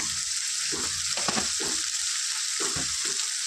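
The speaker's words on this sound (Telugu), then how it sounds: "దీన్ని ఒక వన్ మినిట్ ఫ్రై చేసుకుందాం" Mutton liver frying with chili powder and masala in a hot pan, a steady loud sizzle broken by several scraping stirs of a spoon, with no voices.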